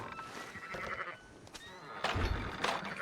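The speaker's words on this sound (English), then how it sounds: "Fine sheep." Sheep in Red Dead Redemption 2 bleat several times over a steady outdoor game ambience, with a louder, closer burst of bleats near the end.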